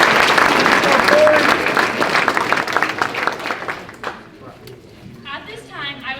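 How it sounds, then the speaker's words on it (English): Steady applause from a banquet crowd honoring FFA chapter degree recipients, loud and sustained before tapering off, with a voice speaking as the clapping dies away. "Let's give them one more round of applause."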